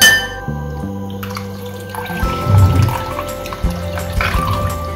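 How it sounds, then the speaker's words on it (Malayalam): Water poured into a fish curry masala in a Kottayam-style fish curry, a running, splashing pour over a few seconds with a louder gush midway, heard close up with no talk. "കുറച്ച് വെള്ളം കൂടി ചേർത്ത് കൊടുക്കാം"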